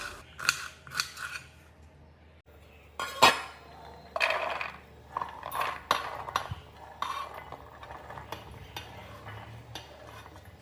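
Vegetables and shrimp being cut for cooking in a home kitchen: scattered knife cuts, scissor-like snips and light clinks of utensils come at an irregular pace, close and fairly quiet, with no talk.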